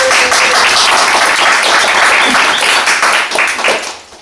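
Audience applause after a talk, a loud dense burst of clapping close by that holds steady and then tapers off near the end.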